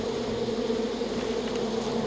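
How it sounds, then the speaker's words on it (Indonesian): Bees swarm in Far Cry 5 with a steady, droning buzz that holds at an even loudness throughout, close and continuous, with no talking over it. "Dan sini juga ada lebah di bawah sini nih"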